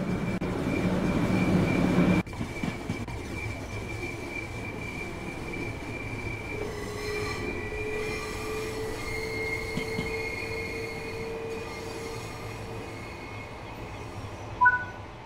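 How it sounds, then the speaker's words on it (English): Class 377 electric train running in Train Sim World 5 on the East Coastway route, a steady rumbling rail roar with faint squealing tones and a brief louder clunk near the end, no voices. "Train Sim World allows you to ride and drive trains"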